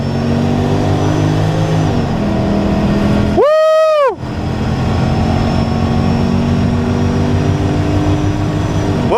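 A Ford Mustang drag racing car at a drag strip roars past loudly, its engine pitch sweeping up and then dropping sharply in a brief pass amid steady crowd and track noise.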